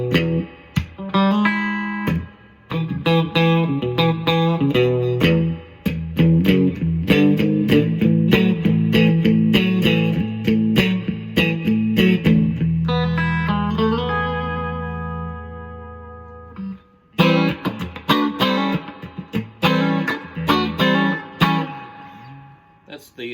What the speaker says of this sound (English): you can get all the classic Strat sounds out of this